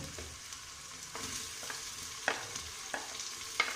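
Tomatoes fry in a pan for a bottle gourd and chana dal dish, a quiet steady sizzle broken by repeated spoon scrapes and taps at irregular intervals, heard close with no speech.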